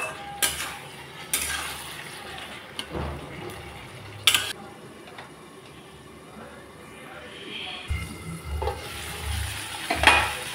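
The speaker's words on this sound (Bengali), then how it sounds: "মিষ্টি কুমড়া আর আলু আমি মশলার সাথে ভালোভাবে মিশিয়ে নিচ্ছি" Sweet pumpkin and potato being stirred with spices in a pan, giving a steady sizzle with repeated scraping and clinking strokes of the utensil against the pan, some louder knocks, and a voice speaking now and then over the cooking.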